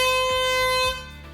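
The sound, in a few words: air horn blasts as site evacuation alarm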